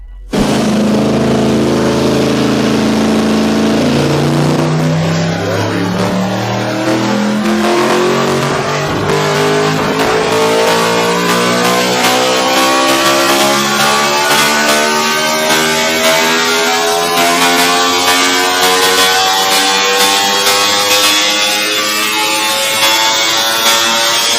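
A Yamaha R1M motorcycle fitted with a custom dual exhaust revs hard and loud, its engine note climbing steadily in pitch over a long continuous pull, with no talking.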